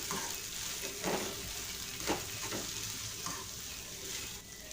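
Finely chopped cabbage with spring onion stir-fried in a pan for Schezwan fried rice, a steady close sizzle with a few sharper scraping stirs near one and two seconds, no voices.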